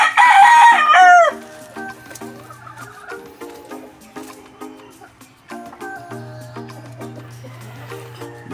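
A rooster in a chicken coop gives one loud, close crow lasting about a second, followed by softer clucking and scattered background chatter from other hens.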